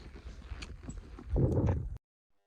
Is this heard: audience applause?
no